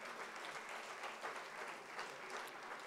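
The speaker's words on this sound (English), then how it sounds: "Give him a special round of applause" A school Founder's Day audience gives an award-winning Class 10 student a round of applause, steady, dense clapping that sounds faint and distant for about three seconds.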